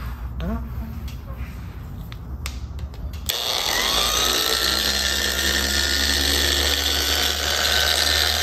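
A polisher with an orange pad buffs scratches out of the paint on a 2022 Indian Pursuit motorcycle, starting after a few seconds of clatter and then running as a steady, close, continuous whir to the end.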